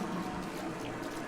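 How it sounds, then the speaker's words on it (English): A waterfall in the Dear Esther video game produces a steady, dense rush of falling water, faint and even without pauses, heard alone. "Waterfall."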